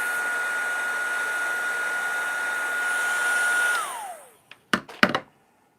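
A heat tool blows hot air in a steady, loud whoosh for nearly four seconds, then its pitch drops as it winds down, followed by a few sharp clicks and knocks close by.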